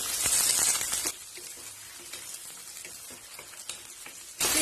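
Green toor beans and sliced brinjal sauté in hot oil in a pan, giving a steady, close sizzle and crackle with light stirring scrapes, louder at the start and end, with no talking.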